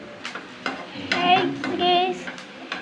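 Vegetables sautéing in a pan as a utensil stirs them, giving soft scraping and clinking strokes over a low sizzle, close up, with faint talk in the background.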